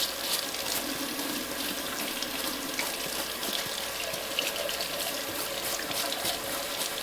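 Water runs steadily from a tap onto golf spikes being rinsed to loosen grass from the crevices, a continuous close hiss and splash with no talk.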